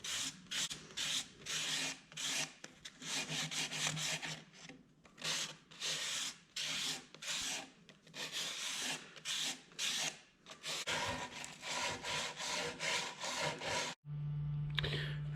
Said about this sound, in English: I'm gonna hand sand this inside edge, which takes a little longer,